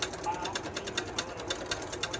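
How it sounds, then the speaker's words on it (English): A sewing machine running at speed, a fast rhythmic mechanical clatter of repeated needle strokes, fairly faint and steady, with no voices. "really get some sewing going"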